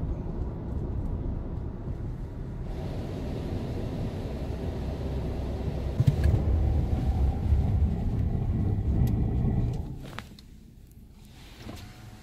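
Car cruising at steady speed on worn tires during a tire test, a continuous low road and engine rumble inside the cabin that drops off sharply near the end.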